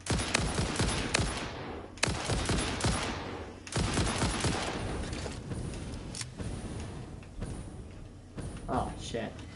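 Gunfire in the video game Satisfactory, a fusillade of repeated sharp shots in irregular bursts across the clip, loud and close, with a voice talking over it.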